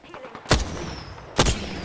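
Gunfire in the game Apex Legends: two loud, punchy shots about a second apart over steady in-game background noise.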